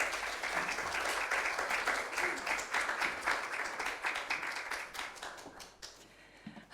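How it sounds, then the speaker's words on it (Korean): A church congregation claps to welcome the pastor to the front, a busy, uneven patter of many hands that starts strong and gradually thins and fades over nearly seven seconds. "목사님 나오실 때 박수로 환영의 인사합니다"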